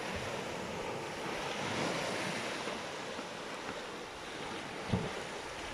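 Sea waves wash steadily against a seashore, forming a continuous broad rushing surf with a soft gust of wind, heard alone with no voices.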